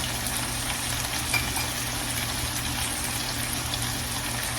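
Flour fries in chicken grease to start a gravy, making a steady, even sizzle throughout with no talking.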